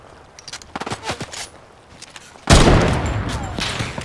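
Fortnite gunfire: scattered clicks and sharp light shots, then from midway a loud, dense burst of rapid fire that stays heavy to the end, with faint voices in the mix.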